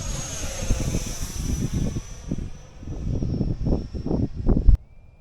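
Thunderbird model airplane on its maiden flight at Fritz Field, a droning engine with a high whine that rises and falls as it passes, then cuts off abruptly near the end.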